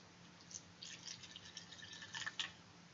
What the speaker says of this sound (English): I would start pouring 1 to 2 inches above the bowl, just so that water won't drip onto the sterile field